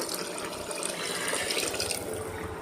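Water pours steadily into a cooking pot of basmati rice for biryani with a continuous splashing rush, close and fairly loud, without talk.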